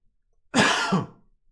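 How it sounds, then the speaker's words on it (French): A single harsh cough up close, a short rough burst with a second push at the end, surrounded by silence. "je suis en train de tousser"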